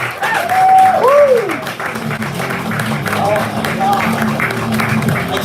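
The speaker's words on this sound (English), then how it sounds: "How about a round of applause for Matt for fantastic open mic." Applause from an audience at a comedy open mic, a sustained clapping wash running throughout, partly under a voice at the start.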